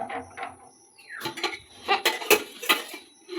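A child handles a toy cooking pan (kadai), making a run of light metallic clinks and clatters in irregular bursts, close by and fairly loud, with no speech.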